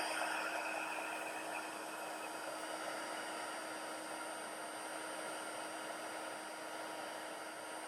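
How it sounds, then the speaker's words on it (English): A heat tool runs with a steady, loud, even whoosh, melting embossing powder on a paper card for about eight seconds, alone and without voices. "All right, so I'm gonna go ahead and heat emboss this one."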